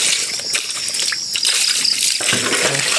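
Water gushes and splashes steadily as it is poured into a cooking pot for soup, a loud, close, continuous pour that briefly thins and then surges again.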